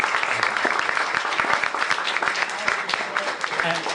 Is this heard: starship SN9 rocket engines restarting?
no